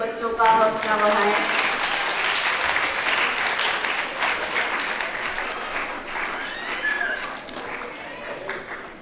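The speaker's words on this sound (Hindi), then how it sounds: "जोरदार तालियों से बच्चों का हौसला बढ़ाएं।" Loud audience applause for children at a primary school annual day function, sustained crowd clapping that starts strong and slowly tapers, with a voice briefly heard at the start.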